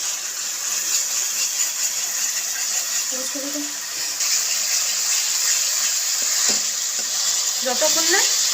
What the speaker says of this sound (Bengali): মশলাটা খুব ভালোভাবে আবারও কষিয়ে নেব